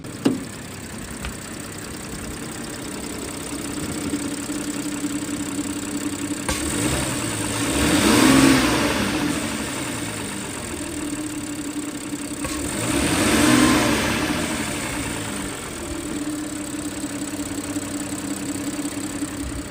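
Audi A6 engine with an abnormal ticking noise, running with the hood open: a steady idle hum that swells twice into louder revving, close by with no talk.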